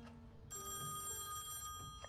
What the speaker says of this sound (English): Okay, I guess we're answering the phone.